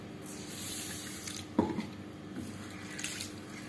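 Lentils and rice rinsed by hand in water, soft sloshing and dripping with a brief splash in the middle, quiet and close.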